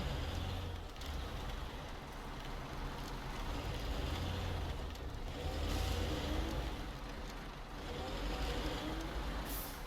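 A heavy truck in SnowRunner rumbles forward with a continuous low engine drone that swells and eases slightly, steady and moderately loud, with no talk over it.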